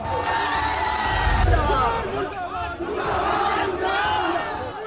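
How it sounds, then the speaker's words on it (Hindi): A crowd at a Bihar election rally chants slogans against Nitish Kumar over jobs, with many loud voices shouting together in a sustained, rowdy roar that swells and dips. "रोजगार को लेकर उनके खिलाफ नारेबाजी हो गई"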